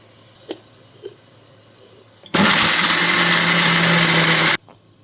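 A mixer grinder powders fried peanuts in a kitchen. A couple of faint taps come first, then a loud, steady whirring roar runs for about two seconds and stops abruptly, close to the listener.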